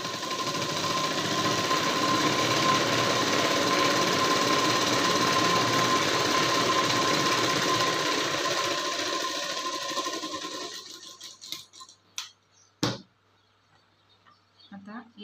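A sewing machine stitches a prince-cut blouse with a steady, rapid mechanical whirring for about ten seconds, close and loud, then slows into a few short bursts and clicks.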